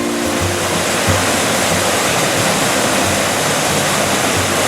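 Pigpen Falls on Lick Log Creek along the Foothills Trail, a waterfall pouring in a steady, loud, broadband rush that fills the scene without a break.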